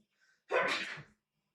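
A single sharp sneeze from someone nearby, a short explosive burst after a faint intake of breath, then silence.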